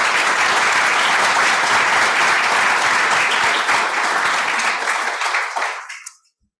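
An audience in a lecture hall gives loud, sustained applause to welcome a speaker: dense, even clapping from many people that fades and stops abruptly at the end.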